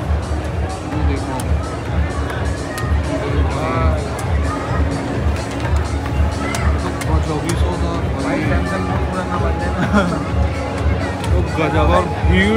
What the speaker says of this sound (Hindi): गजब भीड़